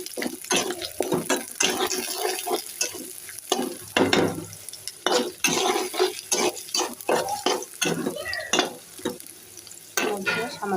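Onions fry with cinnamon and cloves in a pan, a close sizzle broken by repeated scraping stirs in an uneven rhythm.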